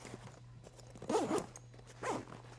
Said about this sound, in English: zip it up, and you're good to go